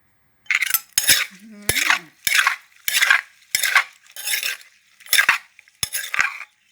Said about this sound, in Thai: ใส่แตงแล้วก็ ตำเลย ไม่ต้องตำแรงแรงมากนะ